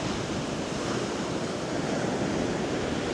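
Rough sea surf breaking on the shore at a seaside sanatorium in Yalta, Crimea, a continuous loud roar of waves mixed with wind noise, with no voices over it.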